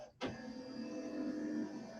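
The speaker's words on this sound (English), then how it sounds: "it's my printer now, sorry." A printer starts up abruptly and keeps running with a steady mechanical whir and hum, fairly close and with no voices over it.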